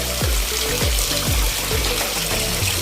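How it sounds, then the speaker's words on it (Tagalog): Water runs steadily into a 3 m diameter tilapia pond after draining, a continuous splashing flow with low gurgling pulses, fairly loud and close, with no talking. "nag-fill up po kami ng tubig ngayon"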